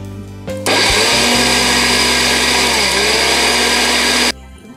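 Kitchen blender grinding mixed fruit for juice with lemon, a loud close whirring roar that starts abruptly, holds steady for several seconds and then cuts off.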